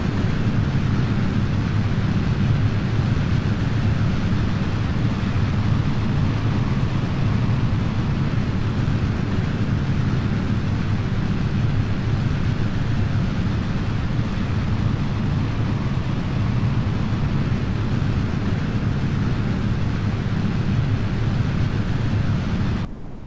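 Rocket engines roar at launch in Kerbal Space Program, a loud, steady, broadband rumble that holds without a break for over twenty seconds, with no voices over it.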